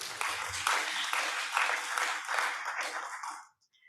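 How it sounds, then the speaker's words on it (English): A conference audience on urban water innovation breaks into sustained applause and cheering after being asked for a cheer, steady clapping for over three seconds that ends abruptly. "again, I ask you for a cheer"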